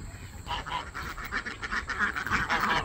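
Several ducks quack repeatedly in a loose, overlapping chatter, close by and fairly loud, with no speech.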